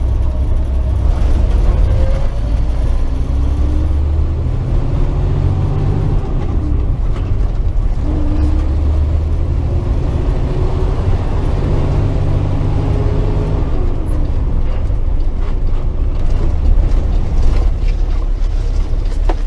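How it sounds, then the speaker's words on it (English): Inside the cab of a 2012 Kenworth T800 truck cruising at 55 mph around 1200 RPM, a steady low engine drone and road hum carry on evenly with faint mechanical whirs and no speech. "Running 55 now at about 1200 RPM. Very quiet ride."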